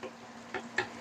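Tomato paste frying in a pot while being stirred, giving a faint sizzle with a few short scraping stir sounds, close by and without speech.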